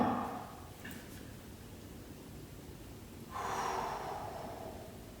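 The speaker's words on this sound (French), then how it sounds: "vous soufflez bien" A person breathes out forcefully during a guided joint-protection exercise session at a spa. Two long, breathy exhales: one at the start and a stronger one later, with quiet breathing between and no talk.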